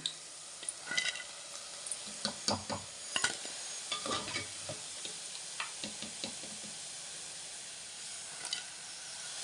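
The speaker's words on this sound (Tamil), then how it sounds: "அதே பாத்திரத்தில் எண்ணெய் ஊற்றி மீனை வறுத்து எடுத்துக்கோங்க" Fish frying in oil in a pan for fish pickle, a soft sizzle beneath a series of irregular utensil taps and knocks, close by and fairly quiet with no voices.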